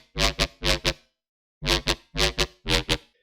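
Demon lead synth preset from a bass house sample pack plays short, bright, buzzy stabs in two phrases of paired hits separated by a brief gap, loud and alone.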